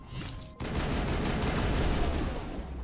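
Geth sniper fire in a Mass Effect battle: a brief quiet, then a sudden loud burst of rapid gunfire and blasts that rolls on continuously and fades slightly at the end.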